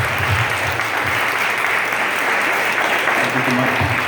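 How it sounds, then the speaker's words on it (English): Dense audience applause rings out at an event honoring an artist, loud and sustained throughout without a break. "let's give another round of applause for Betirri."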